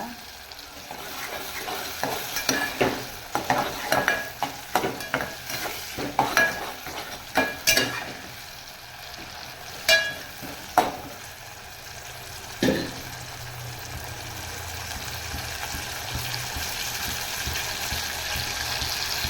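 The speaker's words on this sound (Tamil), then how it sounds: "இந்த மாதிரி நல்லா கொஞ்சம் எண்ணெயில் வதக்கிடுங்க" Turkey berries sizzle and crackle in hot oil in a pan, with scraping stirs early on, then a steady frying hiss continues.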